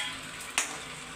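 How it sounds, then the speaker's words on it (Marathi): Edible gum (dink) frying in hot oil for methi laddoo, a brief close crackling sizzle with one sharp pop partway through, and no one speaking. "डिंक तळून घेते"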